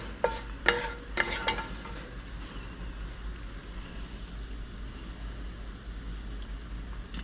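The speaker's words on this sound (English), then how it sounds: "I'm just gonna scoop" Cooked meat being scooped from a cast iron skillet, with a cluster of close metallic scraping clinks early on, then a low steady background hum as the scraping fades.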